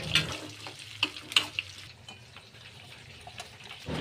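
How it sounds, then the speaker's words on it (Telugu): Onions and garlic frying in oil for chutney, a soft crackling sizzle with a few sharp pops and stirring scrapes, quiet and close, fading toward a faint hiss. "ఫస్ట్ ఆయిల్ వేసుకొని పోపులు వేసుకొని ఆనియన్స్ వేసుకోవాలి. వెల్లుల్లిపాయ వేసుకొని బాగా ఫ్రై చేసుకోవాలి."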